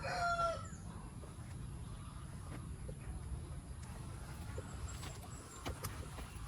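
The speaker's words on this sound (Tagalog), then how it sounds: "Ayan, mga manok na yan." Chickens call faintly in the distance over a steady outdoor rumble, with a short crow-like cry right at the start.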